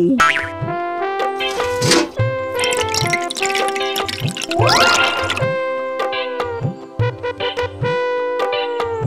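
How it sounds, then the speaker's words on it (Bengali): Cartoon effect for a bucket of dal poured over rice: bouncy, boinging tones and bubbly liquid glugs in a rhythmic, musical pattern, loud and close, with no talking. "এবার ডালের বালতিটা ভাতের উপর ঢেলে দাও তো"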